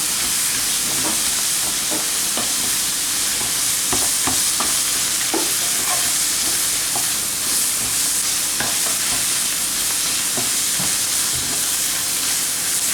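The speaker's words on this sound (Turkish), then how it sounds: "Salçamız iyice kavrulur ki salça tadı gelmesin." Tomato paste frying in a pan gives a constant loud sizzle and hiss, with scattered soft scrapes and taps of a utensil stirring it throughout.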